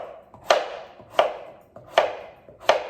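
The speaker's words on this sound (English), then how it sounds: "I put the cut side of the squash straight down, and then I'm cutting slices" Four evenly spaced knife strokes slice through delicata squash on a cutting board, each a crisp thunk with a short scraping tail, close and clear with no talk.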